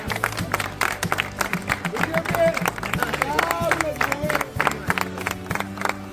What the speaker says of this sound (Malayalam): ആദ്യമേ നമ്മുടെ ഡയറക്ടറിന് ഒരു ഉഗ്ര കയ്യടി കൊടുക്കട്ടെ